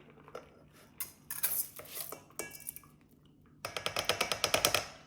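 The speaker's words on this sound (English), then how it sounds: "Now we're going to dump it into our rice cooker bowl here." Rinsed rice tipped into a rice cooker bowl, heard as a series of close clinks and scrapes against the bowl, ending in a quick rattling run of grains and taps.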